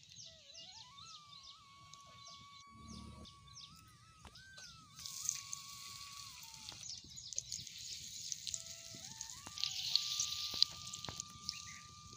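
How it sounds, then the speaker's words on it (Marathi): Oil poured onto a hot griddle in a traditional Marathi home kitchen for colocasia leaf cooking, giving a faint, steady sizzle with scattered crackles that grows busier toward the end, alongside a continuous whistling tone. "बाळानं आता तवा तापलाय, तेल ओतून घेते"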